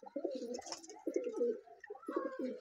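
Giribaj pigeon cooing up close, a run of throaty rolling coos in quick succession, clear and alone.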